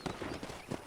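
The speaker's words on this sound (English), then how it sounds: "let's see if you can still ride a horse" Quick horse hoofbeats clop in a brisk trotting rhythm, several strikes in under a second, fairly soft and close, from the video game Red Dead Redemption.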